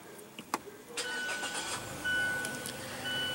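A 2016 Mazda 6 with a 2.5-litre inline four-cylinder SkyActiv engine is started by push button, with faint clicks before a quiet crank that settles into a soft, steady idle.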